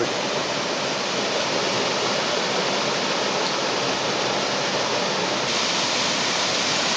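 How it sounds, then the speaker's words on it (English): A rushing mountain stream with waterfalls along a hiking trail on Mt Washington, a loud, steady broadband roar of churning water that stays constant throughout, close by and without voices. "we're following this stream for quite a ways now, like over a mile"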